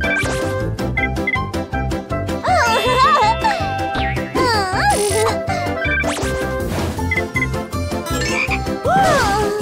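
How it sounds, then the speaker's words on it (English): A cartoon frog croaks loudly in an animated kids' show, with repeated comic croaks and warbling calls set among bouncy music and crashing sound effects. "It's a frog."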